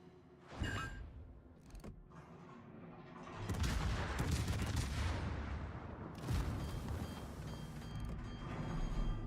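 Naval guns firing in a warship combat video game, featuring the Spanish ship Almirante Oquendo: sharp booming shots followed by dense, sustained rumbling barrages and overlapping blasts.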